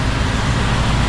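Loud roadway noise from the BR-101 highway in Santa Catarina at night, heard from inside a moving vehicle: a continuous, rumbling roar of tyres and engines with no talking.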